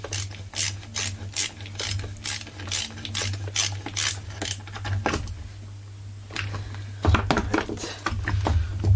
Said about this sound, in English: I'm going to screw it in with the flat screwdriver.